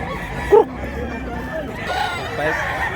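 A rooster in Mantalungon, Cebu, gives a single loud nearby crow, followed by background murmur and faint ambient noise.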